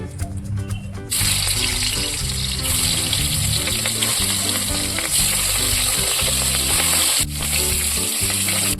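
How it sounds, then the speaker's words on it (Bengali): Rohu fish dropped into hot oil in a kadai sizzles loudly after a brief quiet start, a dense, continuous crackling fry that stays strong throughout. "কড়াই তেল গরম হয়ে গেছে এবার মাছটা দিয়ে দেবো"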